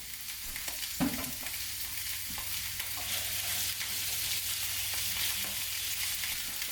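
Potatoes searing in olive oil in a pan, a continuous close hissing sizzle with a knock of the pan or utensil near the start and light scraping sounds, no talking.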